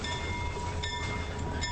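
A single railroad locomotive at a grade crossing, a steady loud rumble with a sustained tonal drone over it, continuous and unbroken for the short stretch.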